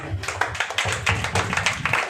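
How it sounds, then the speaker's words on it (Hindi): A church congregation claps in a strong, fairly regular rhythm for Jesus during a prayer sermon, a series of loud, close hand claps with no voice over them. "यीशु के लिए एक जोरदार ताली बजाएं।"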